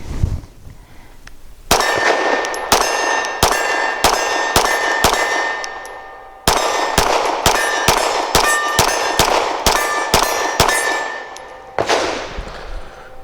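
Rapid strings of Grand Power Q100 9mm pistol shots ringing off a steel target about 15 yards away, two bursts of sharp cracks each followed by a bright metallic clang, loud and close with no talking.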